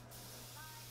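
A short burst of steady spray hiss from a spray gun applying shellac finish, continuous and close, with a low hum underneath.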